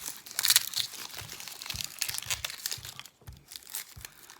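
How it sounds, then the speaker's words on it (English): A kitchen knife slicing through an onion on a cutting board while a pasta dish is cooked, giving a run of crisp, crunching cuts at close range, with no one speaking. "we'll see how this knife will cut the onion"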